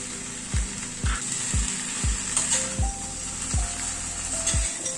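Fried lentil dumplings (bori) tossed into bitter gourd frying with fenugreek in a pan, a continuous close sizzle punctuated by about eight rhythmic spatula thuds against the pan, no voices.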